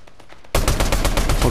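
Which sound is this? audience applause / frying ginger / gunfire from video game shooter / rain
gunfire from video game shooter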